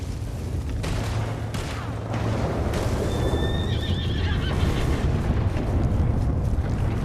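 Horse neighing in the video game Red Dead Redemption 2, a loud, drawn-out whinny in the middle over a steady rumbling game soundscape with hoof clatter.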